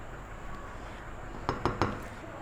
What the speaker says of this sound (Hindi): इस तरीके से मिक्स कर लें।